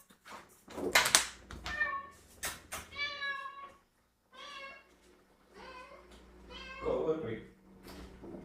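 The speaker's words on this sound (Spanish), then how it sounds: "Deme un ratito porque voy a abrirle la puerta a mi gatito." A pet cat meows repeatedly at a door, asking to be let in. The near, drawn-out cries come in a series, with a person talking in between.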